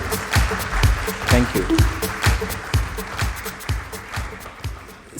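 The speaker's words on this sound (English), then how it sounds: "A big round of applause, please" Audience clapping welcomes guest C.P. Gurnani onto the stage at the SPARK India 2025 CEO panel. It comes as distinct, fairly sparse claps in an uneven rhythm, and a voice speaks briefly over it.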